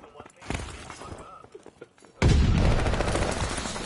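Video game gunfire erupts suddenly into a loud, sustained burst of rapid shots after a stretch of scattered quieter shots and voices, with speech heard throughout.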